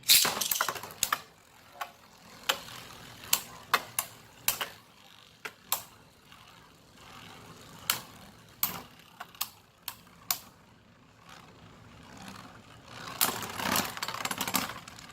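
A modded Beyblade Burst Jinnius with its cyclone shield removed battles a balance-type top in a stadium. Sharp clacks and ticks of the spinning tops colliding come in irregular bursts, with a denser flurry of clashes near the end.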